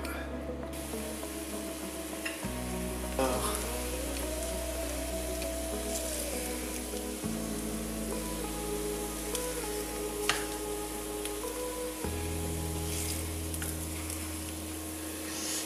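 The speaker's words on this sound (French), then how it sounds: "Que la poêle soit bien chaude. Hop, et là on va se les mettre à cuire." Broccoli buns fry in olive oil in a hot pan, a steady close sizzle and crackle that runs without a break, with a low kitchen hum under it.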